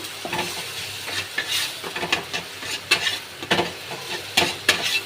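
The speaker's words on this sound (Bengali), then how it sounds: "এবার আমি হলুদ গুঁড়ো দিয়ে দেবো, দিয়ে একটু নেড়ে নেব।" Tomato and turmeric powder stirred in a pan on a high gas flame for fish curry, with a spoon scraping in uneven strokes over a steady close sizzle.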